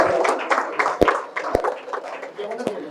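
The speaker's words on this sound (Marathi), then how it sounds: "अरे मित्रांनो टाळ्या वाजवा." Scattered clapping from a small crowd at a school batch reunion felicitation, uneven and sparse rather than a full ovation, with a few sharper claps standing out and people talking over it.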